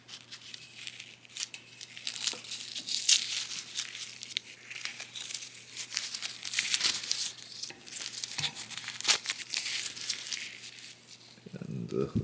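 Paper wraps crinkle and tear in irregular bursts as they are peeled off the head of a Transformers Legacy United Commander Class Magmatron toy, close and crisp, continuing throughout with a faint background hum.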